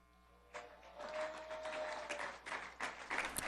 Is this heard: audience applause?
yes